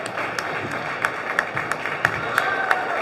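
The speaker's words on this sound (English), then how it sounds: "And there's the round of applause for the seniors." Senior night crowd applauding the seniors during a timeout at a girls' high school basketball game in a gym, steady scattered clapping with occasional sharper claps and a whistle-like tone near the end.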